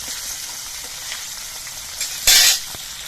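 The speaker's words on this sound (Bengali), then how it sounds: "কয়েকটা করে পিস দিয়ে মাছগুলোকে ভেজে নিচ্ছি" Silver carp pieces fry in hot oil, a steady close sizzle with a sudden loud burst of crackling spatter lasting a moment before settling back to an even hiss.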